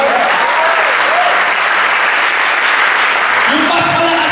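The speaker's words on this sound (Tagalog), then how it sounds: "Sige nga, palakpakan mo nga si Lord." A church congregation applauds steadily, a dense wash of clapping with a few voices calling out over it.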